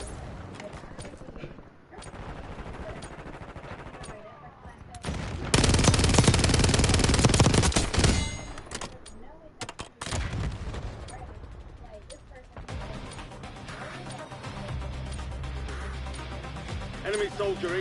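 Call of Duty Warzone gunfire crackles in bursts, swelling into a loud, sustained barrage at mid-clip, then dropping to scattered shots under game voices and music.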